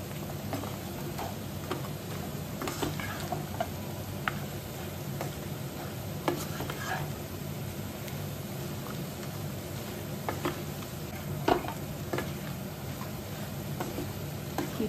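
Spice powder stirred into chicken frying in a pan, with a soft steady sizzle and scattered clicks and scrapes of the spoon, fairly quiet and close.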